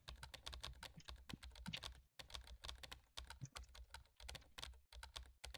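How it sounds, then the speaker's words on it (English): Close-up keyboard typing while playing the chat game Emily is Away, with rapid bursts of clicking keystrokes broken by short pauses and no talk. "But I do actually have to press on my keyboard"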